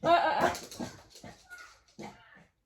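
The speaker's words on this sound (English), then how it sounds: "My dogs might bark." A dog whimpers and yips in short, uneven bursts, close by, fading between whines.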